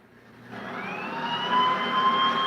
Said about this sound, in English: I hung up the phone and I heard the sirens going.